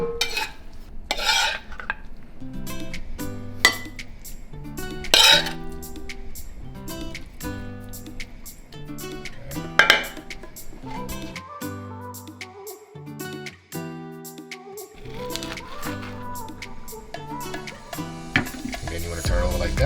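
A lobster tail omelette is plated with clinks and scrapes of a pan and cutlery, intermittent close metallic taps and sliding sounds, with brief quiet gaps and no talking.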